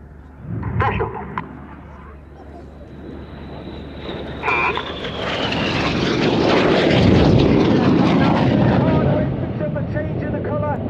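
Red Arrows display jets fly at Cosford Airshow 2024. Their engines build from a distant rush to a loud, sustained roar and drown out a commentator talking over the PA.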